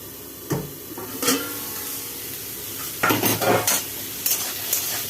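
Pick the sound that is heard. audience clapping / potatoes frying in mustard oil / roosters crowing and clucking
potatoes frying in mustard oil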